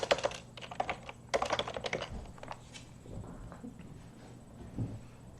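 Rapid, clattering keystrokes on a computer keyboard as an npm install command is typed, coming in dense bursts early on and then thinning to a few scattered taps, close and clear with no talk.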